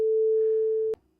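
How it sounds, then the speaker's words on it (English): A pure sine tone at A440 from a modular synth oscillator holds steady and loud for almost a second, then cuts off abruptly, leaving near silence. "you're hearing this very pure tone because that's a sine wave"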